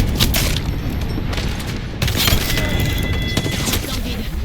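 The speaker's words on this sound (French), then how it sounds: "Je signale une frappe aérienne." Repeated booming explosions from an air strike mixed with bursts of gunfire in a shooter video game, loud and dense throughout with rumbling impacts.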